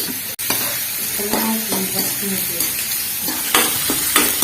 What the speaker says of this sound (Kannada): ಈಗ ಉಳ್ಳಾಗಡ್ಡಿ ಚೆನ್ನಾಗಿ ಫ್ರೈ ಮಾಡ್ಕೋಬೇಕು